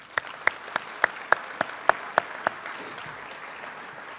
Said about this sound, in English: I want to give a round of applause for our great chamber staff members